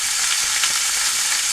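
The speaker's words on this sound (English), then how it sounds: "you hear that sizzling along?" Steak and scallops sizzle in a hot pan, a loud, dense, continuous hiss and crackle close up with no voices.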